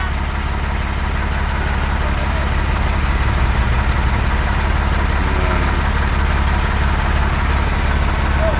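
A steady, dense low hum comes from an electric motor driving a long 35mm conveyor, running unchanged from start to finish with a faint background murmur.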